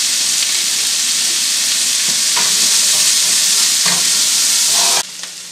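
Onions from a batch of three medium-sized ones fry in olive oil in a pan with a loud, bright, continuous sizzle and occasional stirring scrapes. The sizzle drops off sharply at the end.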